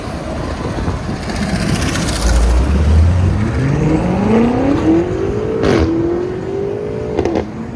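A 2018 BMW M5 Competition F90 with a 4.4-liter twin-turbo V8 and a full Dinan exhaust system with X-pipe and axle-back revs loudly nearby, its pitch climbing steadily through a long pull before a sharp shift and another rise.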